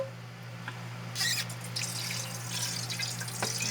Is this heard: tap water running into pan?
yes